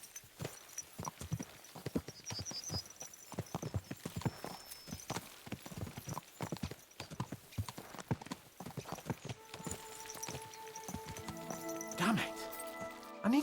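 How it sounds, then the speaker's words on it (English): Horse hooves clip-clop at a steady trotting rhythm throughout, fairly close, in the medieval game Kingdom Come Deliverance, with a voice talking over them and music rising toward the end. "Let's really spur these horses on, eh?"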